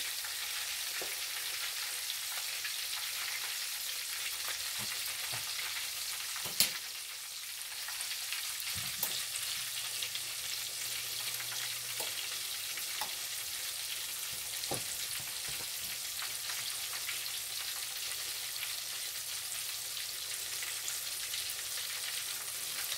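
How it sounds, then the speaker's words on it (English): Steady crackling sizzle of chicken wings frying in hot oil, continuous and close, with a few soft clinks and stirring sounds. "I have it on temperature 5 right now, frying"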